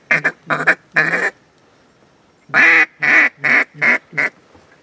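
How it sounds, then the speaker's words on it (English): A dark-colored duck quacks in two close bursts, a quick run of three calls and then five louder, evenly spaced quacks, heard clearly against an otherwise quiet outdoor waterfowl hunting setting. "There's a lonesome dark colored duck."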